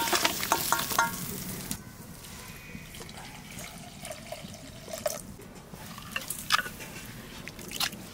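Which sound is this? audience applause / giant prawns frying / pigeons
giant prawns frying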